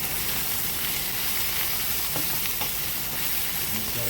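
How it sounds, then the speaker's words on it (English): Chicken frying in a pan of oil with garlic and ginger gives a steady, dense sizzle throughout, with a few soft clicks of movement in the pan. "pollo al sartén con aceite, ponerle ajo y jengibre"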